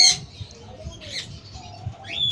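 Pet birds at a sale of green opaline and split blue birds give sharp, high squawks and chirps in short bursts near the start, middle and end, over a low murmur of background noise.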